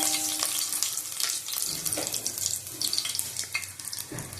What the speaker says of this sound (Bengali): তেজপাতা দিয়ে দিলাম গোটা গরম মশলা দিলাম